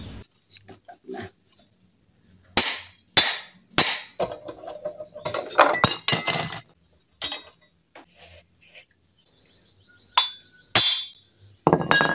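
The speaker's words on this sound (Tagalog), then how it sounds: "Kailangan pang martilyuhin para lang lumuwag ang mga tornilyo" A hammer strikes metal repeatedly while rusted screws on a Kawasaki brush cutter are worked loose, giving sharp, close clanks in irregular bursts separated by short pauses.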